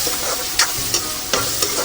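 Cumin seeds tempering in hot oil before potatoes are added, a loud close sizzle with rhythmic spoon scrapes every few tenths of a second as the pan is stirred.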